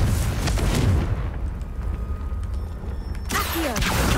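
A Confringo spell in Hogwarts Legacy detonates with a loud, rumbling boom that fades into a low roar, then a second crackling blast bursts in near the end.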